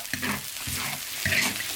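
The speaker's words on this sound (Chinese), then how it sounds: "新鲜肉炒起，闻起好香哦。" Fresh pork stir-fries in a hot wok with chili and fermented black beans, sizzling loudly and close, with a spatula scraping in three rhythmic strokes.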